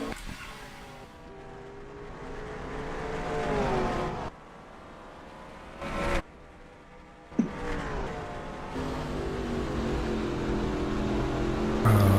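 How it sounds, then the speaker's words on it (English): A race car engine at Richmond in a FAST Renegade race drones loudly and then drops away as the clutch goes in, with the roar cutting in and out before settling into a steady hum. "He'll step on the clutch. Yeah, the engine goes quiet."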